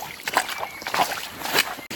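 Footsteps wade and splash through shallow water near Twimarang waterfall in Tripura. The sloshes come in a few uneven surges over a couple of seconds, close to the microphone and fairly faint.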